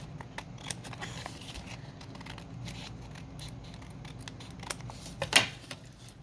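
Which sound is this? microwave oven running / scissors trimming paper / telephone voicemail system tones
scissors trimming paper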